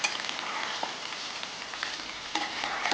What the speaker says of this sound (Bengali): একটু লাল লাল করে ভাজা করতে হবে